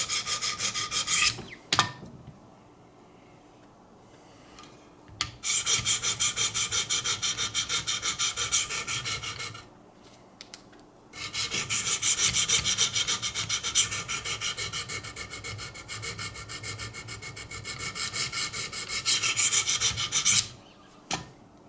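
A knife blade is stroked on a Wicked Edge guided sharpening system, with long bursts of rapid rasping strokes separated by short pauses and occasional clicks, close up with no talk.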